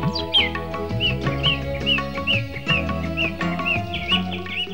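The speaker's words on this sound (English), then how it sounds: "now stands a dense forest, a home to 85 species of birds." Birds sing in a dense forest on a plateau near Panchgani, with a repeated clear whistled phrase returning at a steady rhythm over a layered chorus of other calls, fairly close and prominent.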